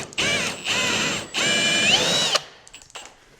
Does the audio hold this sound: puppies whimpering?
no